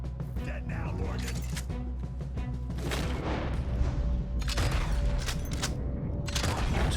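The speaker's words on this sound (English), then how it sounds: "Too far away for a shotgun, apparently." Shotgun blasts and booming gunfire in the Red Dead Redemption 2 video game, loud, dense and repeated across the scene, mixed with clatter and someone talking over the action.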